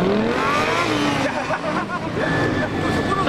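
A Suzuki DR-Z400SM motorcycle runs a gymkhana course at a DUNLOP MotoGymkhana round in Chubu, Japan, its engine note climbing and falling steadily throughout while a commentator talks over it.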